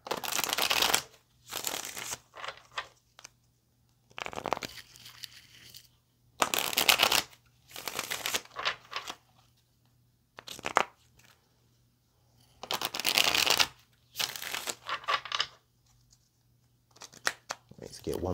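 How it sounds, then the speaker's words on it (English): Repeated rounds of tarot cards being shuffled up close, crisp riffling bursts separated by pauses, with talking woven between them. "Get one more shuffle."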